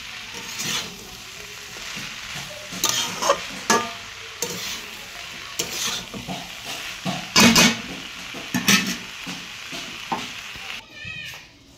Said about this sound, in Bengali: আর যে এখানে ভাজি আলু দিচ্ছি, আর একদম মিশে ভাজি করে দিচ্ছি